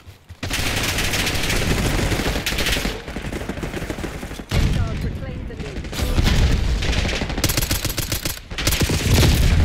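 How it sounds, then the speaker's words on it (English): Slow-firing SMG gunfire in Call of Duty: Black Ops 6, dense loud bursts of shots filling nearly the whole stretch with brief pauses, mixed with game explosions and a player talking over it. "this is that slow rate of fire SMG"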